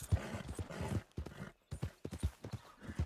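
Steady clip-clop of horse hooves at a trot in Red Dead Redemption 2, close and fairly loud, with a short pause partway through before the rhythm picks up again.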